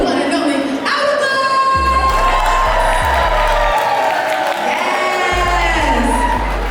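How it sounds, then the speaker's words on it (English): A packed crowd at a TV show premiere cheers, whoops and shouts loudly, with some clapping under the roar. Bass-heavy music thumps through part of it. "A round of applause to the one and only"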